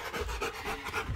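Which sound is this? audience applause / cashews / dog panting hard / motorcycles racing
dog panting hard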